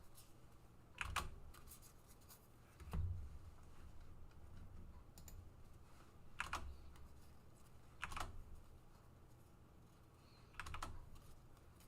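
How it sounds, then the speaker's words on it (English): Faint, sparse bursts of typing on a mechanical keyboard: short clusters of clicky keystrokes spaced a second or two apart over a quiet room background. "what's the general consensus about the mechanical keyboard? Is it annoying everyone? Is it too loud?"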